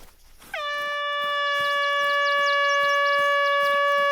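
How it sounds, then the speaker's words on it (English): An air horn in the hunting video game theHunter: Call of the Wild blasts one long, loud, steady chordal tone that starts abruptly and holds for several seconds, with faint game ambience around it. "An air horn happened."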